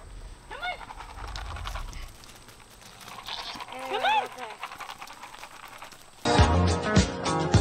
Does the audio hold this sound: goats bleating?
yes